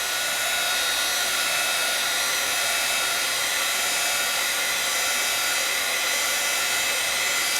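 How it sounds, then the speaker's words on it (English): A craft heat tool blows hot air over stamped work in a steady, loud, close whoosh with a constant high-pitched hiss. The sound runs unbroken for the whole stretch, with no voices over it. "you can always take your heat tool and give it a quick peruse"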